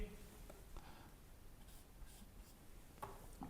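Pen scratching out numbers by hand on paper during a maths lesson, soft close strokes and taps in quick uneven bursts over a low background hiss.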